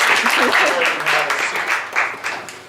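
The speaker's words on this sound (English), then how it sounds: "Give them a round of applause, everybody." An audience in a saloon show claps in a brisk burst of applause, a dense patter of hands at close range that slowly thins, with a voice talking over it.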